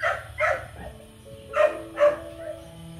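A Bac Ha bobtail dog barks close by, four sharp barks in an uneven rhythm over faint background noise.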